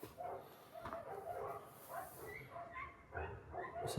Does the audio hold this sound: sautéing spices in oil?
no